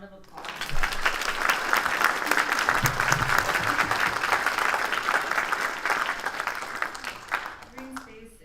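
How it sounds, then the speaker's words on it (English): An audience at a panel discussion applauds the panelists in a sustained, dense round of clapping lasting several seconds before fading, with voices audible at the start and end. "If we could get another round of applause."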